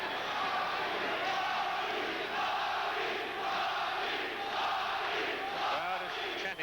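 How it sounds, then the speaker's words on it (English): A large boxing crowd at the Bobby Chacon vs Rafael Limon fight chants "Bobby" in a loud, sustained roar of many voices that fills the arena throughout. "The crowd is chanting Bobby."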